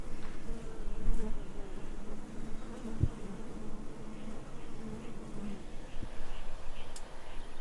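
A hive of honeybees crawls over and covers a honeycomb, a dense and continuous buzzing hum heard up close with small shifts in intensity.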